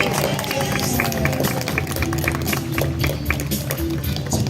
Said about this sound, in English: A round of applause for Bruiser and Jen.